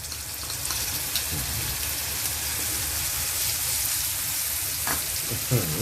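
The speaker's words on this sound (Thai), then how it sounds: "อันนี้ก็ผัดจนเหลืองเนาะพอผัดเหลืองปุ๊บต่อไป ใส่พริกเผา พริกเผาลงไปเลย" Clams stir-fried with roasted chili paste give a continuous, loud sizzle in a hot pan, with the scrape and clatter of stirring over the frying.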